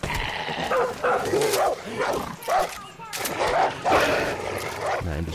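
A dog in the shooter video game Far Cry New Dawn barks in a string of short, sharp yelps, close and fairly loud, with game sounds and someone talking over parts of it.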